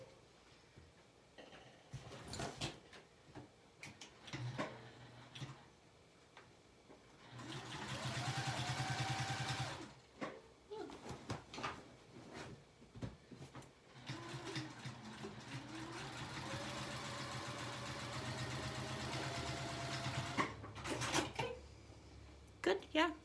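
Sewing machine stitching a seam across the bottom of a piece, with one sustained whirring run around the middle and a longer run later, broken up by handling clicks and a person talking.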